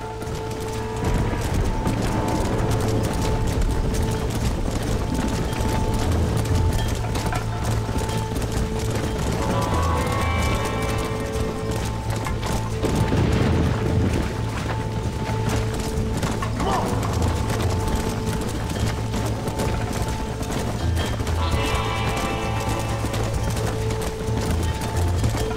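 Hooves of a stampeding cattle herd thunder steadily in Red Dead Redemption, a dense continuous rumble of clopping and trampling over loud game sounds, with horse noises mixed in throughout.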